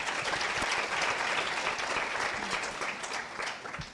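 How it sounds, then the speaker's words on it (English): Conference attendees at a mental wellness event give a warm round of applause, a thick wash of clapping that starts full and gradually thins and softens toward the end. "a round of applause for Shiv"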